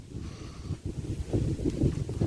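Wind blows outdoors where weed trees are being cleared, a low, gusty rumble buffeting the microphone that swells and fades irregularly.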